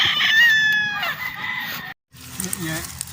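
A rooster crows loudly up close, its call breaking off, followed after a brief silence by chickens clucking with background farmyard noise.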